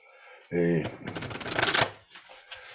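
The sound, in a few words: shuffling cards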